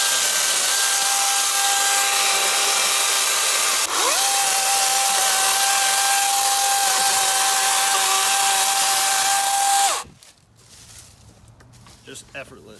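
A DeWalt FlexVolt 60V Max brushless 16-inch cordless chainsaw cuts small branches with a loud, steady electric motor whine that shifts pitch briefly partway through, then stops abruptly, leaving quiet outdoor background.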